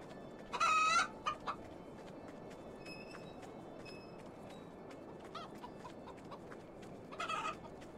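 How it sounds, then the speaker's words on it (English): Inside a barn in the video game HumanitZ, chickens give a loud squawking burst, then a few scattered clucks, and a second cackling burst near the end over a steady low ambient hum. "So this is just a barn with chicken."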